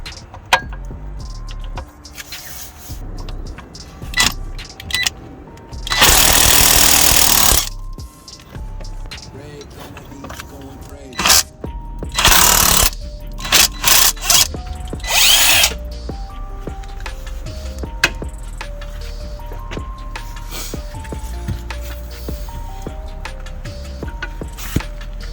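A power tool loosening brake caliper bolts with a 17mm socket, in a few loud bursts of whirring and rattling, with clanks and handling noise between them.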